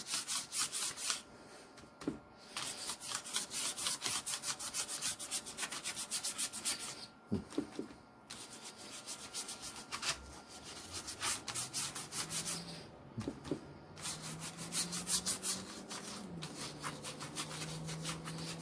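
A paintbrush covers paper with ultramarine blue acrylic paint in steady, close scratchy rubbing strokes, with a few brief louder scrapes and no talking.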